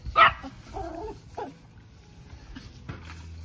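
A dog gives a sharp single bark outdoors during a family Easter egg hunt, followed by softer yips and whimpering sounds, fairly faint and with some quiet background noise.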